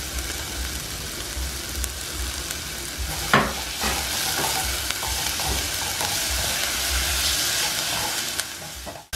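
Onion, garlic and sausage sautéing in a pan, a steady close sizzle with bursts of stirring and scraping partway through, continuous and fairly loud, with no voices.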